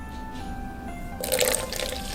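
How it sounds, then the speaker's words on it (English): Warm water pours into a bowl of yeast dough ingredients for a chocolate nut roll, a brief splashing rush that starts abruptly midway and stays steady under a faint background hum. "Adding our warm water."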